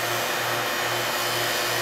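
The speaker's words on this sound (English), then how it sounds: "We are going to turn the vacuum pump on. It will now evacuate" A vacuum pump runs steadily while evacuating a refrigerant manifold on a DIY recovery setup, giving a loud, constant motor hum and hiss with no breaks, close up and alone.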